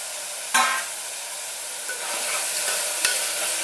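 Tomato fries in a pan for methi pulao, a soft, even sizzle opened by a sharp clatter as it goes in, with another brief utensil knock later and no speech.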